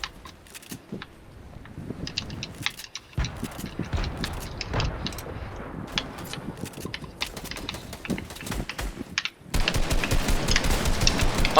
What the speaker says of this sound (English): Spammed by an SMG.